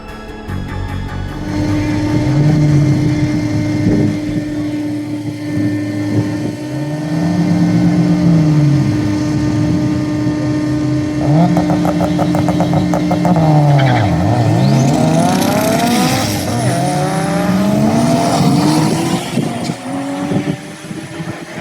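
A turbocharged all-wheel-drive Eagle Talon race car revs and accelerates hard at a drag race, engine pitch climbing and falling through gear changes, loud and close with tire noise, no talk.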